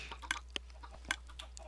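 Chickens in the video game Minecraft make faint, scattered clucks, several short sharp calls spread unevenly over a quiet background.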